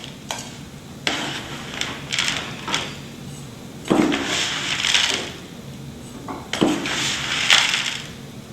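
Soil is added into a steel compaction mold in a laboratory, with several separate gritty scraping and pouring bursts, close and moderately loud, separated by brief quiet gaps.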